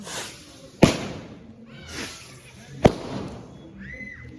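Pongal firecrackers go off in two sharp loud bangs about two seconds apart, each trailing into crackling and rumble, with a whistling rocket rising near the end and voices faintly around.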